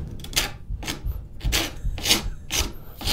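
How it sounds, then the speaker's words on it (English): A rounded rasp files the handle of a straight razor in a workshop, giving about six loud, rhythmic rasping strokes close up, each a coarse scraping burst separated by short pauses. "And so I'm going to start with the rasp."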